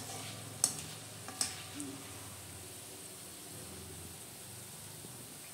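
Dough balls frying in hot oil give off a faint, steady sizzling hiss, with a few soft clicks early on and no talking.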